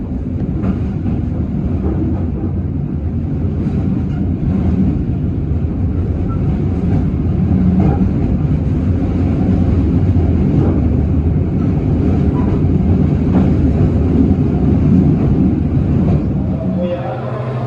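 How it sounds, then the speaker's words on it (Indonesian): Kahuripan economy passenger train pulling into Lempuyangan station in Yogyakarta, a steady loud low rumble of wheels and carriage noise throughout, with voices over it. "Perjalanan kereta api Kahuripan kini telah tiba di stasiun Lempuyangan yang ada di kota Yogyakarta ya."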